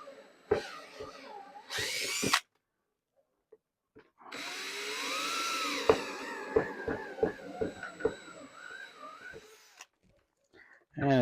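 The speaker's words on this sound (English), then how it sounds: "I guess we could start a pilot hole first" A drill boring a pilot hole ahead of a larger 1 1/4 hole, part of a spare-parts backup battery build, whirs steadily for several seconds with sharp clicks through it. Short bursts of other noise and talk come before it.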